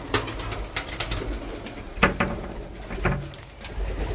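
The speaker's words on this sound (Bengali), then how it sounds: "এই যে আমার পায়রা সব আসছে।" Pigeons in their coop at feeding time give soft repeated coos with scattered wing flutters and light pattering, close and moderately loud, with no talking.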